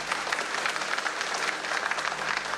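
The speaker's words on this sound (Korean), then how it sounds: "큰 박수로 주님 감사드리겠습니다" A church congregation claps together after a baptism service at a Sunday worship, a dense steady wash of applause lasting a couple of seconds at moderate loudness.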